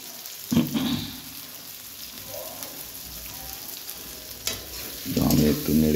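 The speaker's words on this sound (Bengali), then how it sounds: "পেঁয়াজটা কড়াতে দিয়ে দিল, ভালো করে ভেজে নেবে লাল লাল করে" Onion frying in a kadai, a continuous close sizzle with a few louder bursts of stirring and scraping at the start and end.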